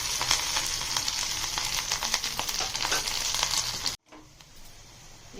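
Garlic sizzles and fries steadily in a pan while cooking a Karnataka-style masala moong dal, a close, dense crackle that cuts off abruptly near the end and returns faintly.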